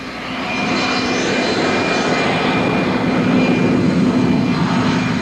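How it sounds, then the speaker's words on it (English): A jet aircraft engine blasts a loud, continuous roar as it dries a soggy quarter-mile drag strip at the 1979 NHRA Gatornationals. The sound builds quickly and then holds steady with no voices. "That is a jet aircraft engine being used to help dry out this soggy quarter mile."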